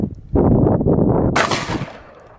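An exotic shotgun shell is fired outdoors, producing a loud, sharp blast followed by a harsh, crackling burst and then a fading rumble.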